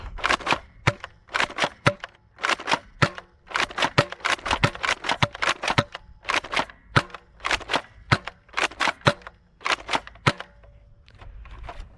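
An X-Shot Royale Edition Turbo Advance toy blaster fires darts in a string of sharp, snappy pops, some in quick runs and some spaced apart, loud and close with no talk.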